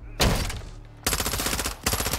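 Bursts of loud, close automatic gunfire from Call of Duty: MWII erupt in three clusters of rapid shots separated by brief lulls, sharp and booming.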